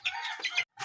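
Backyard chickens in Cavite give a short burst of close clucking, two quick raspy calls, a brief silence and then another cluck.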